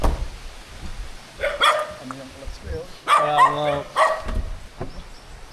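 A few yapping dog barks come in short bursts, fairly close, mixed with a person talking briefly and outdoor background noise.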